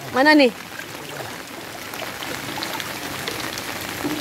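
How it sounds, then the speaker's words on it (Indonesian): Heavy rain pours steadily at night during a flood in Padang, a dense, continuous hiss of water close by after a brief voice at the start. "Hujannya dari jam 10 pagi sampai sekarang belum berhenti."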